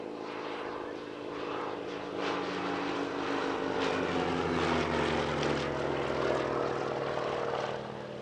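Percival Provost piston-engine propeller aircraft flying at the Shuttleworth Family Airshow, a steady droning engine and propeller note that rises slightly as it passes, moderately distant and heard alone.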